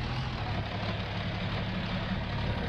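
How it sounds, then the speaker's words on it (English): A John Deere tractor engine in Farming Simulator 19 idles with a steady low rumble while the tractor backs off a trailer, a constant drone with no talk over it. "It's always kind of nerve-wracking backing a tractor off of a trailer"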